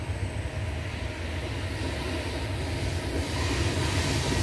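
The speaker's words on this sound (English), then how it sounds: "and of course there's a train coming." A train approaching near a canal where a mule-drawn canal boat has halted gives a steady, loud low rumble that holds and slowly swells over several seconds, with no talk over it.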